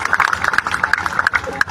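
An audience at a Hindi poetry gathering breaks into a short burst of clapping, sharp irregular claps close by, mixed with voices.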